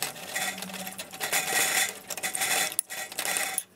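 A utensil clinks and scrapes around a bowl as oatmeal cookie ingredients are mixed, with a steady run of close, busy metallic taps and rattles and a brief pause near the end.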